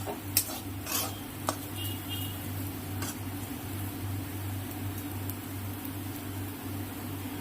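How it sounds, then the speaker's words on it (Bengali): Food in a pan is stirred over a low flame, soft scraping and a few sharp clinks of a utensil on metal over a steady low hum, quiet and close. "আমি একটু লো ফ্লেমে দিয়ে একটু নেড়ে চেড়ে নিলাম"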